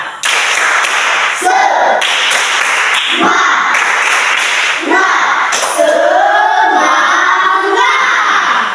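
A school class does rhythmic 'tepuk semangat' chant-clapping, loud claps in patterned bursts mixed with children's voices chanting along, close and busy throughout with brief pauses between phrases.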